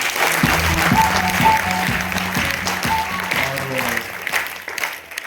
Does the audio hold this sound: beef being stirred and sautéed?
no